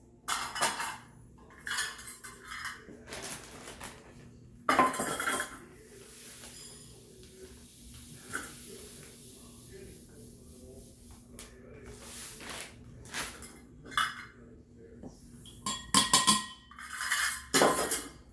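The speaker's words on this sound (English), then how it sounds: "So I'm going to add a cup of sugar to this." Sugar spooned into a jar holding an orange vinegar batch, heard as scattered clinks and scrapes of a spoon against glass and dishes, with brief pauses between bursts of handling noise.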